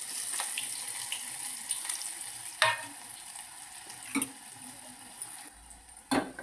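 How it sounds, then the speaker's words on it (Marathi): Two spoons of oil sizzle faintly with chopped onion, garlic and cumin as a tempering for chicken biryani. A low, steady frying hiss is broken by a few sharp clicks and scrapes from stirring. "यांना आपण चिकनला अशी फोडणी देऊन घेऊ."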